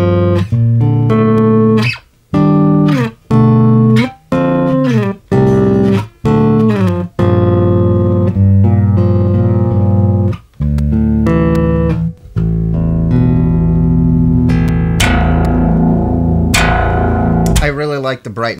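A Squier six-string Jazz Bass on its neck pickup, with fresh strings, plays a series of deep, round plucked notes and short phrases, some notes cut off sharply, ending in a sustained chord.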